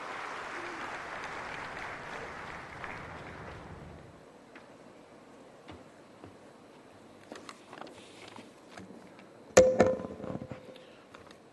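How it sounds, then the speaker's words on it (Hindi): An audience in a hall applauds at a National Technology Day 2023 government programme as the Union Defence Minister is welcomed. Steady clapping lasts about four seconds, fades to a quiet room, then scattered knocks and clatter follow. "तालियों के साथ स्वागत करें केंद्रीय रक्षा मंत्री जी का।"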